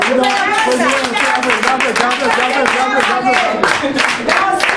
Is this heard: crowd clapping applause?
yes